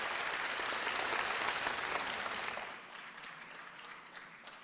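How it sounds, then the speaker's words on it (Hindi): Audience applause at a national Independence Day ceremony, loud and dense for about three seconds, then fading to a softer patter as the clapping dies down, with no talk over it. "उनके लिए भी भरपूर तालियां अगर आप करेंगे तो बहुत मेहरबानी"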